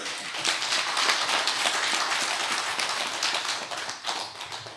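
Steady, dense applause from a church congregation during a Sabbath worship service, many hands clapping together for several seconds without talk.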